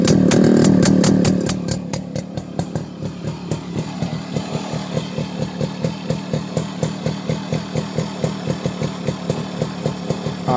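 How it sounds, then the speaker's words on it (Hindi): A Yamaha RXZ two-stroke motorcycle with a quick throttle, PWK 26 carburettor and Indian Nippon CDI revs up loudly, then settles into a steady, evenly pulsing fast idle with throttle slightly raised, close by and alone. "तो हम थ्रॉटल को थोड़ा बढ़ा के इसको चेक करेंगे।"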